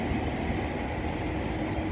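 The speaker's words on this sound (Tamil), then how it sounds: "இந்த லோக்கல் ஸ்டேஷனில் வந்து நின்று ஒரு நிமிஷம் நின்று பேசஞ்சர் இறங்கினதுக்கப்புறம் ஸ்டார்ட் ஆகி போகுதுங்க பாருங்கள்" Electric local train pulling away from a station, a steady, dense rumble and rolling rail noise filling the scene with no voices.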